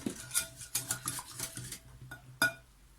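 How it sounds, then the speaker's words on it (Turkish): Milk is whisked into a batter of flour, baking powder and salt in a bowl, producing a series of close, irregular clinks and taps of a utensil against the bowl with short quiet gaps between strokes. "Üzerine sütümü ilave ediyorum güzelce çırpıyorum"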